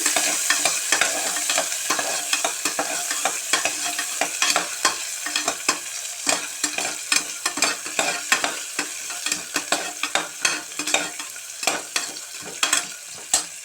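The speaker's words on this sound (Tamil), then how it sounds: "வெங்காயத்தை நல்லா வணக்கி விடுங்க." Chopped onions sautéed in a pan for a spicy mushroom biryani, with a steady sizzle and frequent scraping stirs of a spoon that grow sharper and more rhythmic toward the end, close up and with no talk.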